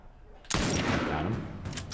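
Gunfire in The Last of Us during combat, a sudden loud burst that opens into sustained rapid shooting with echoing reports over a rumbling background, near and intense, filling the rest of the moment.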